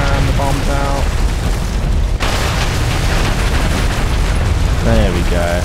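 Bombs dropped from German planes in War Thunder burst on a ground convoy as a loud, continuous rumbling roar of explosions, with a sharp break partway through and someone talking over the noise.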